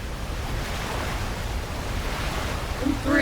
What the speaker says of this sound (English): The water current is too strong.